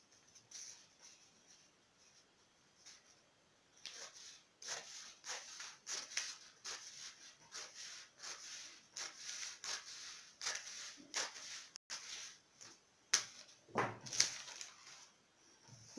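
Scissors snip the excess paper off a drafted sleeve pattern, a series of crisp rustling cuts and paper crinkles in irregular bursts, close and fairly faint, no talking.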